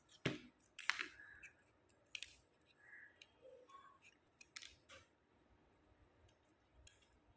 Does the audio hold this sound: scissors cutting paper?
yes